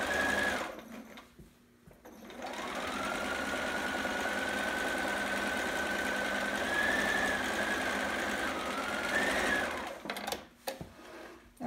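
Sewing machine back stitching on a Riley long john sitter, a close steady motor whine holding for about eight seconds with slight pitch shifts, bracketed by brief pauses and handling noise.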